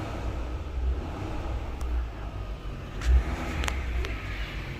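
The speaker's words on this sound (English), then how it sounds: "The reason I'm revving it up is to get the alternator to go into a higher voltage" A Porsche Macan engine idles close by after a jump start and rises in a few short revs, the deepest surge about midway, with faint clicks over the rumble.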